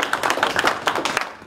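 Audience claps and applauds at a Congolese political party launch event in France, a dense, steady patter of many hands lasting a second and a half with no speech over it.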